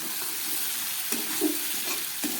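Two slit green chillies fry in hot spiced oil for a dried fish chorchori, giving a constant close sizzle with a few soft stirring knocks and pops.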